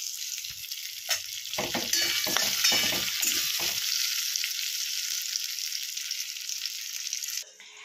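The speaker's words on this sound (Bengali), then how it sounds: "এবার আলুটা ভালো করে একটু ভেজে নেব।" Potatoes fry in hot oil for a kajoli fish curry, a close, constant sizzle with a burst of scraping, knocking stirring strokes early on, then an even hiss that cuts off abruptly near the end.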